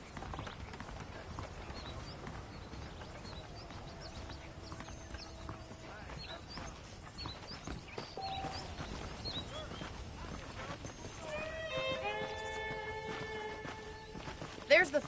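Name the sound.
horses in the video game Red Dead Redemption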